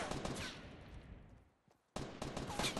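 Rapid bursts of video game gunfire from a care package fight fill the clip, loud and continuous, fading into a brief lull before a sharp return of shooting.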